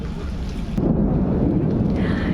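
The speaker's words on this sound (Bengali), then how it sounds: "কি পরিমাণ বৃষ্টি হইতেছে" Heavy rain pouring steadily with a low rumble of thunder, loud and close, with wind buffeting the microphone.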